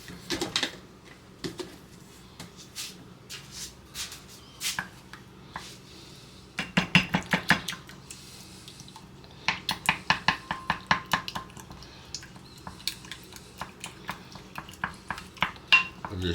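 Egg and a dollop of yogurt whisked together in a bowl, giving a rapid rhythmic clatter of utensil against dish in bursts with short pauses, close and fairly loud.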